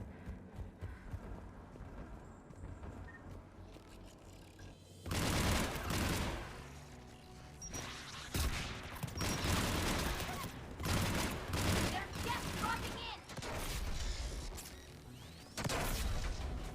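Bursts of rapid gunfire in the video game Mass Effect 3, starting after a quiet stretch and then loud and repeated in clustered volleys with brief gaps, alone without talk.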